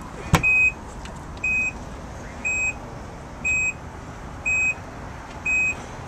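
The power tailgate of a 2013 Nissan Pathfinder opening, marked by a repeating electronic warning beep, six evenly spaced tones about a second apart over a low background hum.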